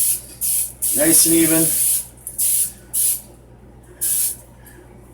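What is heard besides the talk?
cooking spray coating a pizza pan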